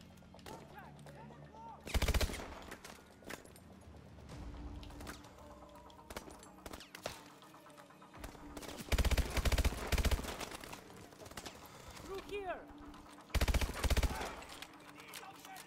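AMR-9 gun from Call of Duty Advanced Warfare firing loud, close five-round bursts, several separate volleys spaced through a busy game soundscape with voices in between.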